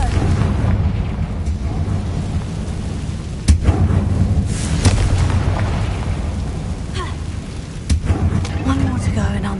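Fiery Confringo spell explosion in the Hogwarts Legacy video game, a dense booming roar with sharp blasts layered over continuous rumbling effects and game music.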